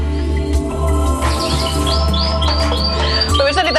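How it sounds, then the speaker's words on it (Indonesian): A red intensive canary sings up close in a bright, repeated series of chirps and rising tweets, layered over a steady low background hum. "di tangan saya ini saya sedang memegang burung kenari atau yang biasa disebut dengan red intensif"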